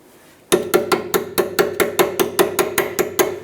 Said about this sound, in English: We're going to use a 17mm wrench to go ahead and loosen these caliper bracket